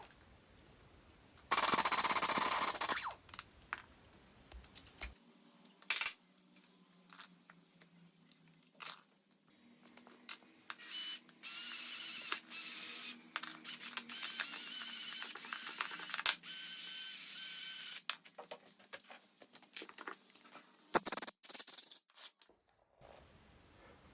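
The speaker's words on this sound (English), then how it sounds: "In my case, on the old one, I'm going to use the impact gun" An impact gun hammers at the shock absorber nut on the old rear shock of an Audi A6 C7. Loud, harsh rattling bursts of varying length are separated by quieter gaps in a workshop setting.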